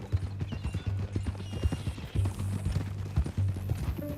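Horse hooves clip-clop steadily in Red Dead Redemption 2, a close, rhythmic trot of regular thuds over a low hum.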